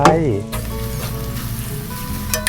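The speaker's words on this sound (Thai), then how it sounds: "ผัดมะละกอของเราให้สุกก่อนนะครับ" Chopped papaya stir-frying with garlic in a hot pan, a loud continuous sizzle with scraping stirs, close by, with a brief voice at the start and end.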